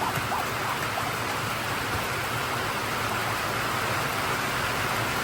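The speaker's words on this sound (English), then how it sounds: "It started raining on us. It wasn't calling for rain, but it is raining." Steady rain falling outdoors on a farm during a painting project by a goat house, a constant even hiss of moderate loudness with no pauses.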